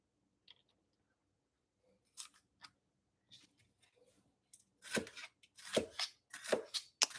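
Knife chopping food on a board while preparing a paprika curry salad, starting with a few sparse quiet cuts and building into louder, quicker strokes near the end.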